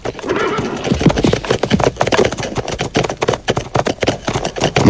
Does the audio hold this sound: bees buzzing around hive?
no